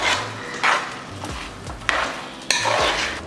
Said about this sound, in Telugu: ఒక్కసారి మొత్తం కలుపుకుందాము